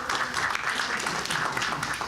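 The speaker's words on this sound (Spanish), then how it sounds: "por favor un aplauso" Applause from the audience at a Latin American citizen security forum, a continuous moderate spread of clapping, somewhat distant and even in level.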